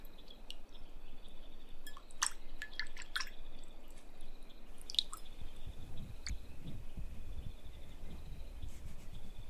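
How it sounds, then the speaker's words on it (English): Fresh water drips and squishes softly while a face is cleaned in a quiet setting, with a few close, scattered drips over a faint wet background. "I'll just clean your face with fresh water."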